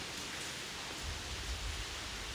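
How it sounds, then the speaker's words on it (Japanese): Heavy rain pours down at night at a tunnel in Kanagawa, a steady, dense hiss with a low rumble swelling midway, with no voices over it. "雨すごい降ってるよ今も"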